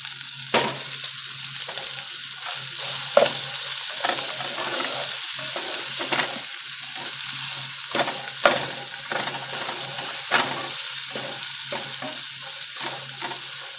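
Sweet potato, cod and onions fry in olive oil in a pan, giving a steady close sizzle broken by occasional sharp clacks and scrapes of stirring, with no talk.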